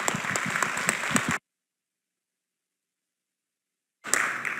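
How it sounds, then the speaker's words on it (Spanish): Audience applause at a polling and analysis forum, a dense burst of clapping that cuts off abruptly into silence and then resumes briefly at the end. "Les pido un aplauso para Francisco Abundis"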